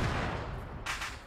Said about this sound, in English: That was a great shot with the Panzer, by the way.